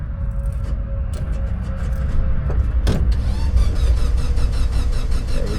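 Suzuki Samurai engine cranking after a month of sitting, then catching and settling into a loud, rough, low rumbling idle up close, with a brief clunk partway through.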